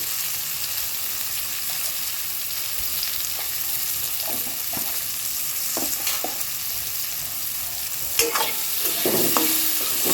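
Amla sizzles in a pan with salt and turmeric, a soft, steady frying hiss broken by scattered clinks and scrapes of stirring, with a few sharper knocks near the end.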